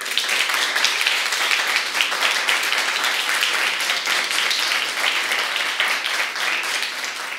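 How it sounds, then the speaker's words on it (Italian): Applause from an audience, a steady, sparse-sounding patter of clapping hands that holds at an even level for the whole stretch with no voices over it. "Applauso timido"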